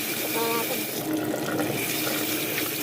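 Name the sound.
strong running water from tap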